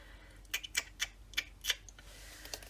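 Typewriter keys strike washi tape on paper in an irregular run of about eight crisp, close clacks with short pauses, over a faint steady background hum.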